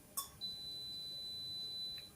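A TAP II kiln controller alarm sounds during a diagnostics test: a short click, then a single steady high electronic beep held for about a second and a half before it cuts off, clear against a quiet background.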